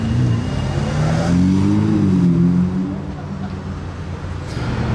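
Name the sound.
Ferrari 599 GTB Fiorano sports car engine driving past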